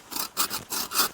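Hand saw rasping through dead tree wood in four steady back-and-forth strokes, close and fairly loud, with brief pauses between strokes, at a winter campsite.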